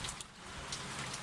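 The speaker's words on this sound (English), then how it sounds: "Hot rain is the best ever." Warm rain falls in a steady, dense hiss, close by and even throughout, with a few louder patters on a surface.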